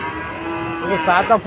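A Friesian calf at the Monirampur cattle market lets out a short, close moo near the end, rising over a faint steady background hum.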